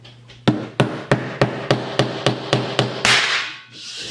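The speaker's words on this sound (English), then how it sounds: "I'm gonna hit it with the hammer" A hammer strikes a metal screw and charge in about ten quick, evenly spaced sharp knocks, close and loud, followed by a short scraping rustle.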